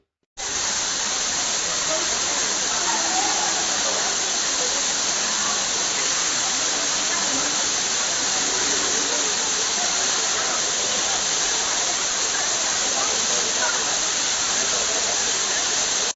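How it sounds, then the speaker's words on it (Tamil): Heavy water pouring down the Courtallam falls after heavy rain, a dense, steady roar of falling water that stays loud and unbroken from start to finish. "குற்றாலம் மெயின் அருவி ஐந்தருவி மற்றும் பழைய குற்றாலம் அருவிகளில் தண்ணீர் கொட்டுகிறது"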